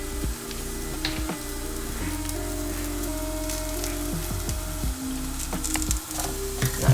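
Tikka seasoning and tomato puree sizzle loudly and steadily in a hot pan while a utensil scrapes and stirs, with a few brief knocks against the pan.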